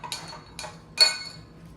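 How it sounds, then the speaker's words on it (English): A spoon clinks against a pot while homemade black raspberry jam is stirred, three separate light metallic taps with quiet pauses between them, close and clear with no talking. "And we're going to stir it up."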